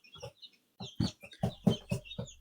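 Chicks kept in a box in a home kitchen give a string of short, close clucking calls, about eight bursts spread unevenly over a couple of seconds, with quiet gaps between them and no talk.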